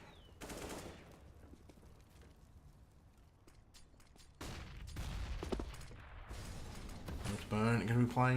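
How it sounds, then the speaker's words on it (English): Counter-Strike gunfire on the Cobblestone map comes in sprays of rapid shots, faint at first and then louder bursts, with a voice talking over the action. "Some bullets being sprayed across cobblestone, the map."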